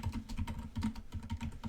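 Rapid, steady typing on a computer keyboard, dense clicking keystrokes running continuously at close range with no voices.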